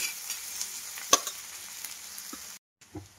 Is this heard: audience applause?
no